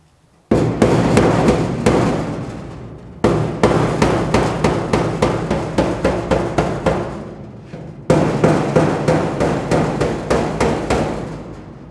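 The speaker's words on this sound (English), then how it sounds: "I think I might take a mallet and tap on this a little bit" A mallet tapping a GTO's sheet metal wheel well in three loud runs of steady, evenly spaced metallic strikes with short pauses between, close up and ringing slightly.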